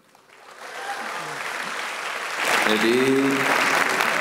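Applause from a crowd of hundreds of young people at a speech, building steadily and then swelling louder, a voice speaking over the clapping near the end.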